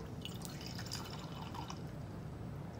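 Water runs steadily out of a container in a fluid flow rate experiment, a soft continuous trickle and drip heard close and alone for the whole stretch, with no talking over it.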